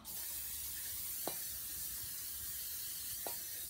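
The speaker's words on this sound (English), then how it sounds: "So this is the spray cooking oil." A steady, close hiss of cooking oil spray lasting several seconds, with a couple of brief clicks from the nozzle, while making meatloaf.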